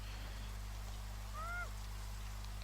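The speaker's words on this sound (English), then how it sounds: "So we're hearing the bird but not seeing him" A single short bird call rings out once in Niche, a brief honk-like cry with a slight downward bend, heard over a steady low hum and faint background.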